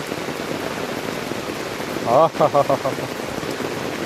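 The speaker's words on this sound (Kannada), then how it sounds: "ಎಂಥ ಮಳೆ ಇದು ಎಂಥ ಮಳೆ" Heavy rain pours down in a dense, steady hiss throughout, with a person briefly speaking over it midway.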